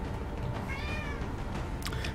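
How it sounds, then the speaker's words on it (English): A cat meows faintly over a steady background hum, with a short rising and falling call near the middle and another brief cry toward the end. "and the cat is meowing"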